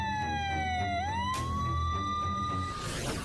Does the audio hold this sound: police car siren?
yes